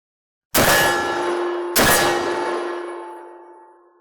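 A Military Armament Corp 1014 shotgun fires two loud shots about a second apart, each a sharp crack followed by a long ringing decay.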